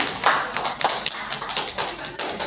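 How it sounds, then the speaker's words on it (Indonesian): Scattered applause from an audience of teachers at a training session: a loose, uneven patter of claps, fairly close and steady, with no voices over it. "beri aplaus Bapak Ibu untuk Ibu Ella."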